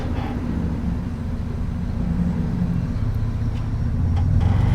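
A one-ton Toyota truck climbs a steep off-road line in sand and rock, its engine a continuous low rumble that grows slightly louder toward the end.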